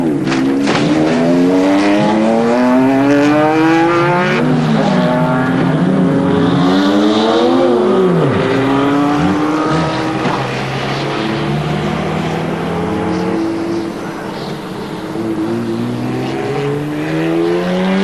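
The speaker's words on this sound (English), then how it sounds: "He's almost run over by another car." Several race cars scream past on a motorsport track during a crash-strewn race, engines rising and falling in pitch as each passes, loud and continuous with overlapping passes.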